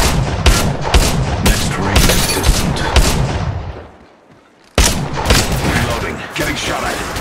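Loud, dense gunfire in the mobile battle game Apex Legends Mobile, sharp rapid shots and volleys with a short quiet break midway, with game voice lines mixed in.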